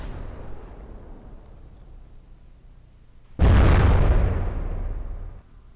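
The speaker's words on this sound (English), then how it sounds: "And a very abrupt end of that explosion" Ship's funnel blown apart in the naval combat game From the Depths: after a low rumbling lull, a sudden loud explosion bursts in and roars for about two seconds before cutting off abruptly.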